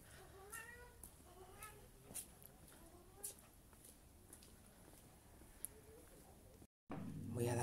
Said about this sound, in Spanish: Voy a darle una latita a este gato porque está desesperado